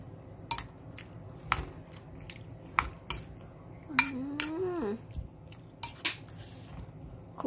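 A spoon stirs a dressing of fermented fish sauce, lime and chili in a bowl, giving sparse, close clinks and scrapes against the dish with a brief wet squelch in the middle.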